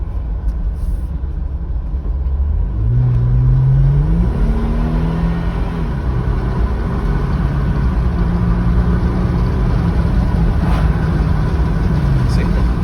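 A pickup truck fitted with 5.13 gears accelerates in four-wheel drive high on a test drive, engine note climbing in rising pitch sweeps as it pulls away and then settling into a steady drone, heard from inside the cab with no speech over it.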